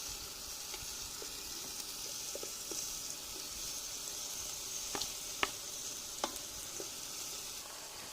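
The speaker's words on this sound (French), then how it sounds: "Et bien sûr, on fait revenir avec les oignons." Lamb shoulder browns with onions in a pan, giving a steady close sizzle, with a few sharp knocks and scrapes as a wooden spoon turns the meat.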